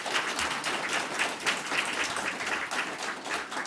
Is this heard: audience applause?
yes